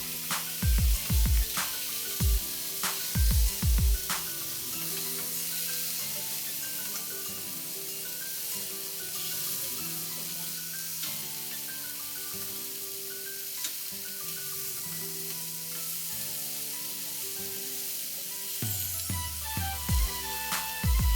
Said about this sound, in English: At this point, you can cover the pan and allow the meat to cook all the way through.